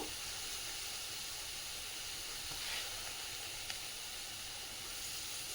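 Ingredients for a drumstick curry sizzling steadily in a hot pan, a continuous even hiss with a couple of faint pops, heard alone at close range.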